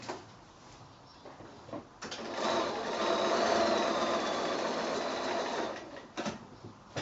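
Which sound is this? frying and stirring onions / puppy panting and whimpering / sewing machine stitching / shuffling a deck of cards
sewing machine stitching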